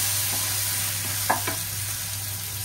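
Ginger garlic paste frying in oil in a pan, a steady loud sizzle with a few soft scraping stirs from a utensil partway through, no voices.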